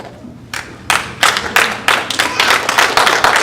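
Military officer graduates at a 2017 Des Moines University commissioning ceremony clap for their families, starting with a few scattered claps and building into steady, close, rhythmic applause.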